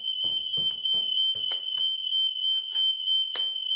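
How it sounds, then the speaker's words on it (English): A fire alarm set off manually at a call point sounds a loud, continuous electronic tone that never breaks, while clicks and handling knocks come through underneath it. "Press that, and that will set the alarm off manually."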